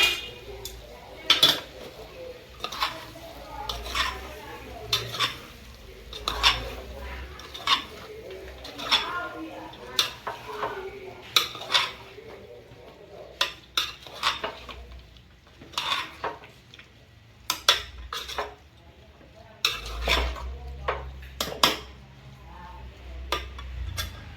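Potatoes are stirred in a pan for poha, with repeated clinks and scrapes of a utensil against metal in a steady, close rhythm over a low background hum and faint ambient noise.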